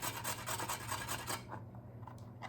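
A carrot is rubbed against a grater in quick, rhythmic rasping strokes, close and fairly soft, stopping partway with a few faint clicks after.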